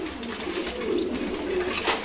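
Domestic pigeons, a male and females kept in a loft, coo softly and steadily through a continuous murmur of birdsound, fairly near with no talk over it.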